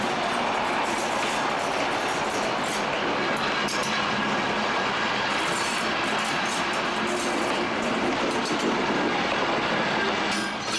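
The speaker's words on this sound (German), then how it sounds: "Einfahrt in den Bahnhofsbereich von Pronsfeld" A special train on the Gerolstein–Neuerburg line rolls into Pronsfeld station in 1987, a loud, continuous rumble and rattling clatter of wagons close by that carries on throughout without any talking.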